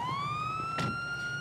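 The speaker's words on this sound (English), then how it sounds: "We'll ignore the siren being on there." Police car siren in GTA 5 with a patrol mod, sounding from a Dodge Charger, a loud sustained wail that sweeps gradually upward in pitch, with a faint low engine rumble beneath.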